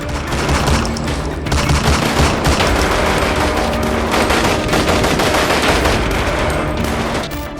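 Sustained bursts of automatic gunfire pour into a car from several sides, loud and continuous, as magazines are emptied in rapid overlapping volleys.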